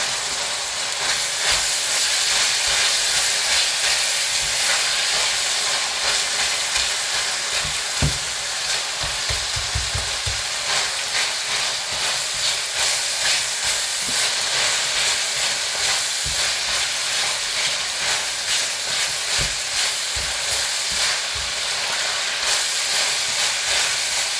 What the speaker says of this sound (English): I'm just going to try to break all the clumps with this spoon